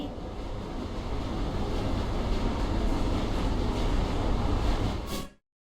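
A train in the Luna Abyss video game pulling into a station at the end of the line, a loud continuous rumbling roar that holds steady before cutting off abruptly into silence, with no voices.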